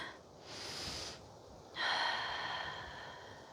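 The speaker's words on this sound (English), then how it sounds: "Breathing in and out there through your nose." Nasal breathing during a seated yoga twist in a meditative flow, two slow, soft breaths in and out through the nose, close and quiet with no talk over them.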